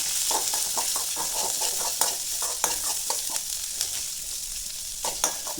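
Spices, curry leaves, onion and chilli tempering in hot oil for a Tamil kulambu, a steady close sizzle with repeated scraping strokes from a big spoon stirring through it.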